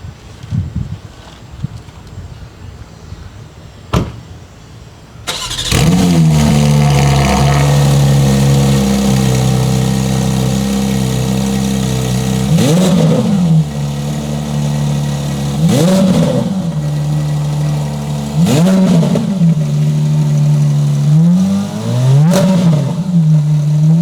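Porsche 992 GT3 flat-six engine on HRE carbon wheels revving loud and close, rising in repeated sharp bursts against a soft limiter around 3,000 to 4,000 RPM, each climb cut off and dropping back to a steady idle between pulls.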